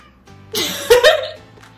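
A house cat lets out a single short meow, close by and moderately loud, lasting about half a second after some soft background rustling, with no talk over it.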